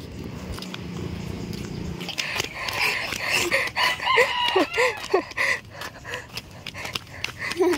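A rooster crows several times in quick succession, fairly close and loud, following a quieter stretch of background noise; no speech is heard.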